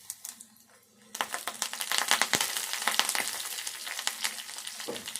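Curry leaves and crushed garlic pods hitting hot oil in a pan, quiet at first, then a sudden loud, dense crackling sizzle with sharp spitting pops that keeps going steadily, with no voices.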